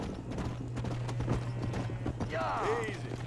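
Horse hooves clip-clop in a steady walking rhythm in Red Dead Redemption over a low constant hum, with a short whinny-like cry near the end.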